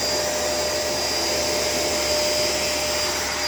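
A Shark LA702 vacuum cleaner runs steadily and loudly with its head not disengaging properly, giving a constant whine and no change in pitch throughout.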